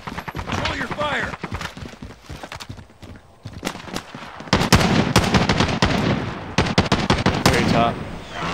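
Rapid automatic gunfire from the Warzone video game crackles in loud bursts with short pauses, mixed with players talking over it.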